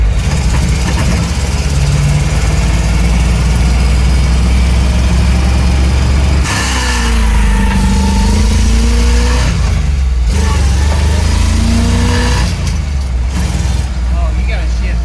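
Engine of a 1975 Chevrolet C10 pickup truck runs steadily at idle, then climbs in a couple of rising revs as it shifts, loud and close, with people talking over it.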